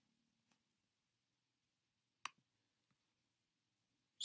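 A few sparse, faint clicks from a computer mouse are scattered over near-silence while items are ordered on a boat website, ending in a sharper tap.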